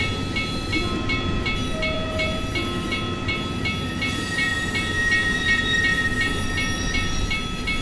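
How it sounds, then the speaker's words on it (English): A DE 24000 diesel locomotive train passes by on the Taurus Mountains line in a train simulator game, with steady rumble, rhythmic wheel clicks and tonal engine whine at close range. "Once the train passes by, I want to show you something."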